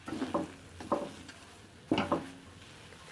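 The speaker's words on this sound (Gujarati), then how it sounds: "અને હવે હલાવી દઈશું બસ બે મિનિટ ગેસ ચાલુ રાખી" Lilva kachori filling is stirred in a pan over the flame, giving a few soft scraping strokes with a light sizzle underneath, in two short bursts separated by a quieter pause.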